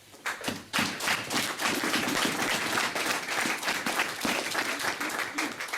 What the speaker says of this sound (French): C'est pourquoi je voulais que vous acclamiez pour votre pasteur.